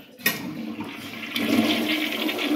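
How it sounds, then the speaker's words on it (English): A household toilet in a newly moved-into house flushes with a sudden whoosh that builds into steady rushing water, close and loud, with no voices. "Check the toilet. Flush it, no leaks."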